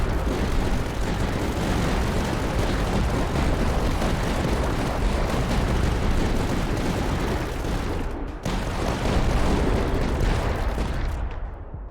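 A dense, continuous roar of explosions and rapid weapon fire in the video game Tower Dominion, loud and relentless with a short dip partway through and no talking.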